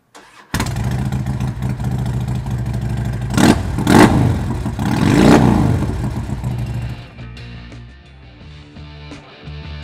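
A 2006 Harley-Davidson Electra Glide Ultra Classic with dual exhaust and an open-air intake fires up and revs loudly and close, with several throttle blips, then settles into a lumpy idle.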